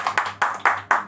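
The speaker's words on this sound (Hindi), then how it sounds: "एक बार विजय भाई के लिए तालियां।" A handful of people clap briefly in a small audience for Vijay, a few loose, uneven bursts of applause close by.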